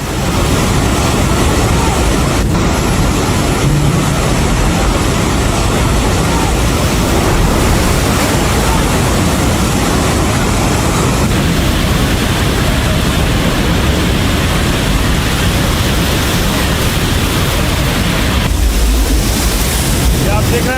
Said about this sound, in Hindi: पानी का बहाव देखिए जरा, इतनी तेज पानी आया है